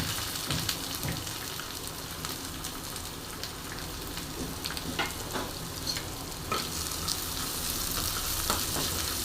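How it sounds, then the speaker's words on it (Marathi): Onion sautés in hot oil in a pan while lauki bhaji is being made, giving a steady, dense sizzle with scattered crackles and occasional stirring scrapes throughout. "कांदा छान असा परतून घेणार आहे"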